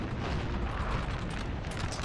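Artillery fire in the video game Napoleon Total War 3, a continuous dense rumble of distant cannon booms and bursts rolling together at steady loudness throughout.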